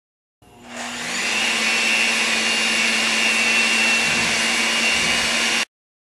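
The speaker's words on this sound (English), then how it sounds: "We're going to whip some whipping cream with 2 tablespoons of granulated sugar." An electric mixer whipping 1.5 cups of whipping cream with almond extract and 2 tablespoons of granulated sugar, a loud, steady motor whir that spins up, holds for about five seconds and cuts off abruptly.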